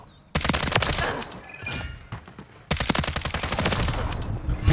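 Rapid bursts of automatic gunfire from the video game Modern Warfare 3, loud and close, with a brief pause before a second sustained volley.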